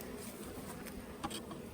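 Honey bees at hives set on pallets at a watermelon pollination site, a faint steady buzzing hum with a few louder passes of individual bees close by, and no voices.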